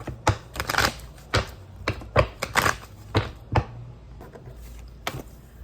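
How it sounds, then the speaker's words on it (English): A deck of tarot cards is shuffled by hand, giving a string of sharp, close riffling snaps and taps in quick, uneven bursts with brief gaps between them. "Shuffling for the water signs."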